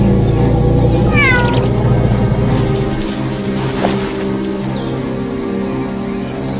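Young serval kittens give a few rising, bright meows close by, followed by softer calls over a steady low background rumble.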